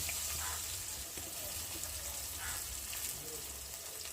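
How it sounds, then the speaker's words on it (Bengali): Chopped onions fry in a pan with bay leaves, giving a soft, steady hiss and light crackle, close but fairly quiet, continuous with no talking. "আর এবার কুচনো পেঁয়াজ দিয়ে ভালো করে ভেজে নেব।"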